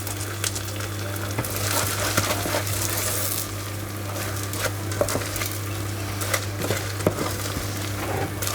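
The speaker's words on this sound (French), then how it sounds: "Là, on remue." Nougatine mixture is stirred in a pan, giving a continuous sizzling hiss broken by irregular scrapes and knocks of the utensil against the pan, close and moderately loud.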